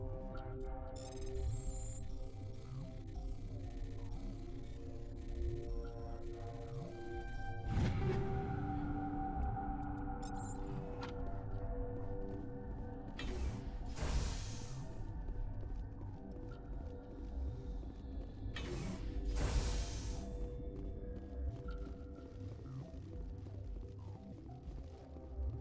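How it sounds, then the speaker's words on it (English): An elevator moving in Mass Effect on Rift Station, a steady low mechanical hum and rumble running throughout with swelling whooshing surges, loud and alone with no talk. "That is an elevator."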